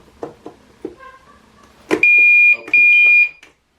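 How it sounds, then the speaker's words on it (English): A building fire alarm panel, reset for a drill, sounds two loud, piercing electronic tones, each about half a second long, after a few scattered knocks and clatters nearby. "we're going to go ahead and reset the fire alarm panel and do a drill"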